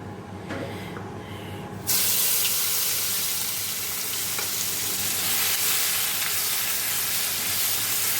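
A sudden loud sizzle bursts out as tempering spices hit hot oil, then a steady crackling hiss continues close up with no talking.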